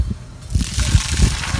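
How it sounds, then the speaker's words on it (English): A Toyota Tacoma truck plows into water, a short burst of sloshing and splashing with low surging thumps, close and fairly loud. "I think I hit the water a little too fast."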